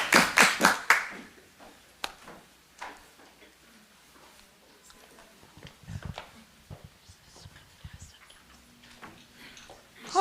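A brief burst of clapping from a city council meeting audience opens loudly, then trails off into scattered claps, taps and room noise, with people talking afterward.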